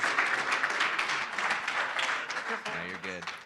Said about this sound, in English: Give them a round of applause to start it off